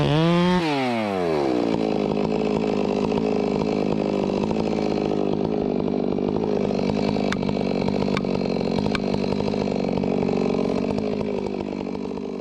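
A chainsaw cuts the spur on the back of a hickory tree during logging. It revs up sharply and then holds a loud, steady, close cutting drone for the rest of the clip.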